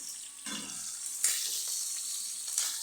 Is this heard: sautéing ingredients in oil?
yes